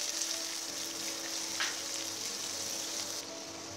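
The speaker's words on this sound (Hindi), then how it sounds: "और अब हम इसमें डालेंगे बारीक कटा हुआ प्याज" Finely chopped onion frying in a hot pan over ginger paste, giving an even, fairly quiet sizzle with one brief brighter crackle partway through.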